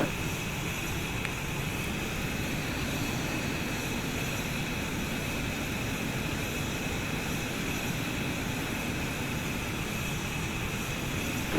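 Steady, loud jet engine roar from a fighter landing on an aircraft carrier in the Falcon BMS flight simulator, holding as one unbroken wash of noise throughout, with no distinct thud of the arresting wire.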